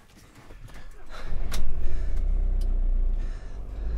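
A car drives off a property in a German crime radio drama, a low engine rumble building and holding steady with some clattering textures, fairly loud and without speech.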